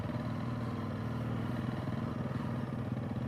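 A Yamaha TW200 dual sport motorcycle pulls away on a training ride, its single-cylinder engine humming steadily at moderate volume with a low, even throb.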